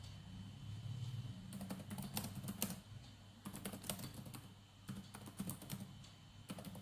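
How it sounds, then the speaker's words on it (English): Quick, irregular bursts of clicking keys from random typing on a computer keyboard, close and fairly steady, with short pauses between flurries and no voices. "I am just randomly typing"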